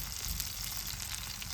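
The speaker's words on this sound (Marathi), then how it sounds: "हा जो बोंबलांचा किरकिराट आहे ना, ऐकायला खूप भारी वाटतं एकदम." Bombil (Bombay duck) fish, coated in rava, frying on a hot tawa: a steady, close crackling sizzle that runs without a break and carries no voices.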